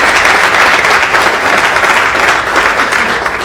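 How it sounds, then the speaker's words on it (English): A crowd applauds at the Springfield redevelopment announcement, a loud, dense burst of many people clapping together, steady for a few seconds with no speech on top. "So a round of applause for Mike"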